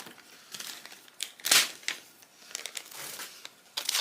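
A paper invoice is pulled out and crinkled by hand, with close, bursty rustles and crackles in an irregular rhythm, one louder crumple near the middle, and no voices.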